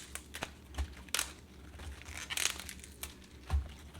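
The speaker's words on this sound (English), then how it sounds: "So I'm going to separate each leaf." Pak choi leaves are pulled apart by hand, giving a few quiet, close crisp snaps and crinkling tears at irregular intervals over a soft background.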